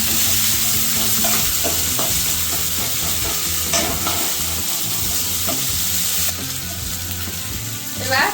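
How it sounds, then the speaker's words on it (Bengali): Ginger-garlic paste and chopped green chilli stir-fry in a pan for a bottle gourd and prawn curry, giving a loud, constant sizzle with repeated spatula scrapes and knocks against the vessel. "এবার আদা রসুন বাটা দেব। ভালোভাবে নেড়ে নেব।"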